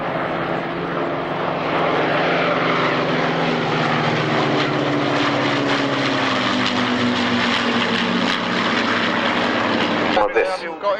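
Spitfire PR-19 propeller fighter flying at a 1996 airshow in Yeovil, a sustained loud engine drone with a slowly shifting pitch as it passes, ending abruptly with crowd noise.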